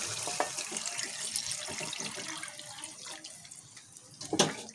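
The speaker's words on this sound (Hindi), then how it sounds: "मैं इसमें ये पानी डाल रही हूँ" Water is poured into a pot of soaking lentils for Punjabi village-style dal, a steady splashing pour close by, with no talk over it.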